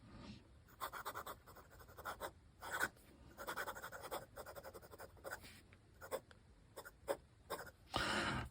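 A Mont Blanc 146 fountain pen with a fine nib scratches across paper in irregular bursts of short strokes with brief pauses, close and fairly quiet, with no talking.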